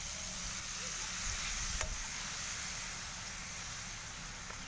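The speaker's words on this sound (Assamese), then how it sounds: "এতিয়া ইয়াত মই পানী অকণমান দিছোঁ।" Water added to a pan of spices and taro stolons frying in oil, giving a steady sizzling hiss with a few stirring scrapes, close and continuous, no voices.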